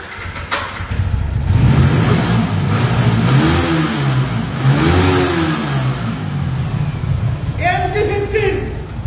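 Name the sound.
MD-15 motorcycle engine revving with throttle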